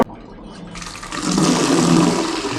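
Washed, wet clothes go into a dry bucket, starting with a brief quiet moment and then a wet slosh and watery rush that builds and holds.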